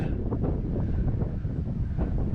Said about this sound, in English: See how that wind just keeps coming up?